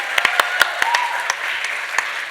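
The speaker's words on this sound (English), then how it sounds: "I'd like you to applaud Anika one more time" An audience at an arangetram, a classical Indian dance debut, applauds for Anika with steady, moderately loud clapping, individual sharp claps standing out from a soft wash of hands.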